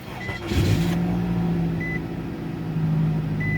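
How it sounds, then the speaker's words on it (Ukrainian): A cold Nissan crossover engine cranks and catches, then settles into a steady, low idle that hums on without talk. "Заводимо автомобіль"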